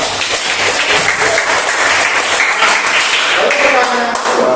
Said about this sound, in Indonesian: berikan tepuk tangan untuk teman kita Nadira.